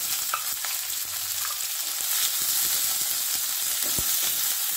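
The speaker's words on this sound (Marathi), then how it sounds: "कांदा थोडासा असा ट्रान्सपरंट होईपर्यंत आपण भाजून घेऊया, तळून घेऊया, परतून घेऊया." Finely chopped onion with cinnamon and bay leaf fries in oil for a mint pulao, making a dense, continuous sizzle with faint stirring clicks. The sound is close and steady, with no talk.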